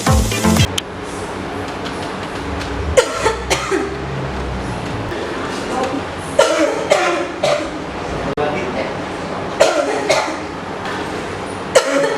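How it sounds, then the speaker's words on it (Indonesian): Several sharp coughs from a child burst out at intervals, close by, with people talking in between. "batuknya nggak boleh gitu"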